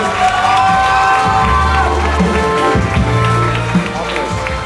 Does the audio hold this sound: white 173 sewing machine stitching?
no